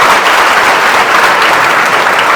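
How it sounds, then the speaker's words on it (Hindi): A crowd gives loud, sustained applause to welcome Divya, dense clapping filling the room close and unbroken throughout. "जोरदार ताली।"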